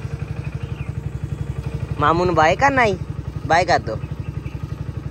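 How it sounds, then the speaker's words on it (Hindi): A motorcycle idles nearby with a steady, rapid thumping throb, while people talk briefly over it in the middle. "मोटरसाइकिल आवाज सुन के बाहर"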